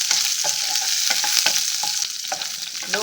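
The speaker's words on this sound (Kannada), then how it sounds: "ಫ್ರೈ ಮಾಡ್ತಾ ಇದ್ದೀನಿ" Green chillies and two dried red chillies fry in a pan over low flame, with a dense steady sizzle and frequent quick scraping stirs clicking against the pan, close up and without any voices.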